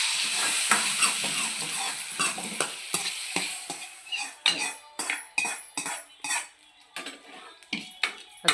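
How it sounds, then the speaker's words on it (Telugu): Village-style sour ridge gourd curry heats in a pan, with a low sizzle beneath repeated metallic clicks and scrapes of a spoon stirring against the pan. It is close and fairly loud, and no one speaks. "ఈ కూరని వేడి చేయాలి."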